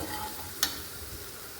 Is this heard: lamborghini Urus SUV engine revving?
no